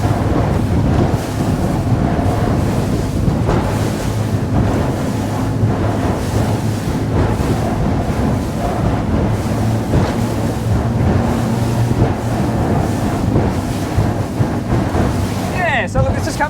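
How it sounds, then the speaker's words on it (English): A LOMAC 12.5GT boat with three Mercury V8 outboards totalling 900 hp pushes through waves, giving a constant loud rush of engine drone, hull slap and heavy wind noise with no pause. "I'm just going to go through these waves"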